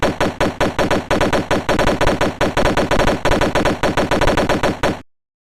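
Loud, close machine gun fire in a film battle scene, steady rhythmic bursts of rapid shots chattering almost without pause for about five seconds before cutting off abruptly to silence.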